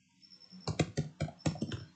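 Fingers tap a computer keyboard in a quick burst of about a dozen close, crisp keystrokes over roughly a second and a half, following a brief quiet lead-in.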